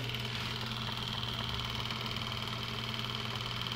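Antique movie projector running after repair with both reels spinning, a steady continuous mechanical whir and hum with a low drone, close and even throughout, no talking.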